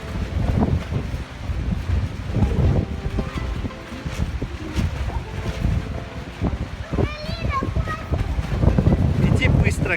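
Strong, gusty wind roars and buffets the microphone in a storm at the Chegem waterfalls, with a steady rumbling wash throughout and brief voices breaking through near the end.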